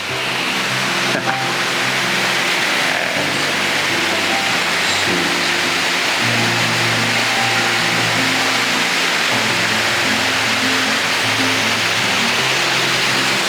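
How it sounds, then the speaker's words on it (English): Waterfall pouring diagonally over rocks, a loud, dense, continuous rushing roar heard from close range with no other sounds standing out. "this beautiful waterfall in front of me falling at a diagonal"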